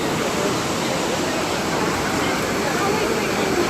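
Water of the Trevi Fountain in Rome rushing in a steady, dense, close splashing roar that covers the whole stretch, with faint crowd murmur mixed in.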